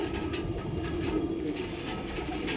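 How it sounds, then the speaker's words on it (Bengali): Fulshira pigeons kept at a house coo softly and steadily, close by, over a constant low background hum, with no one talking. "এই ফুলশিরা পায়রা"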